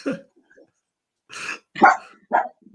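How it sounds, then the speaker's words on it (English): A big dog barks three times in quick succession, loud and close, with a short vocal burst at the start and near silence in between. "big dog"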